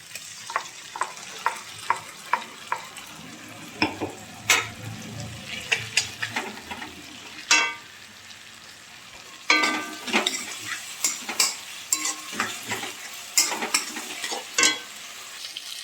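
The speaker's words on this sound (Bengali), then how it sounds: "এখন আমরা এর ভিতরে দেব আদা রসুন কাঁচা লঙ্কা পেস্ট।" Ginger, garlic and green chili paste frying in a kadai with already-fried potato and tomato for an egg curry, with a steady sizzle under repeated sharp scraping and stirring clicks of a spatula against the pan.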